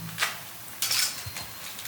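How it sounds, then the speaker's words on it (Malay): A wok of chicken kurma being shaken on the stove gives a few short metallic scrapes and clatters with a sizzling hiss between them, close and moderately loud, and no talk. "dia goyang kuali tu"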